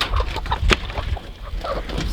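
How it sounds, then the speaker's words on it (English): Chickens, including barred rocks, cluck close by in a homestead coop as they wait to be let out, a quick run of short overlapping clucks and squawks over a rough rumbling background. "I'm gonna let these chickens out for right now."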